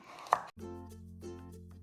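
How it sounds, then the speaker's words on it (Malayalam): A knife chops spring onion finely into thin julienne strips for a hot and sour chicken soup, giving one sharp cutting knock early and then quiet, low kitchen tones, faint and close. "നമ്മൾ സൂപ്പ് ഉണ്ടാക്കാൻ വേണ്ടി അരിയുമ്പോൾ നല്ല ജൂലിയനായിട്ട് നല്ല ചെറുതായിട്ട് അരിയണേ"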